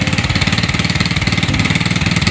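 Motorcycle engine, just repaired with a replacement stator, running at a steady idle after starting, with a loud, close, even rhythmic chug throughout and no talking.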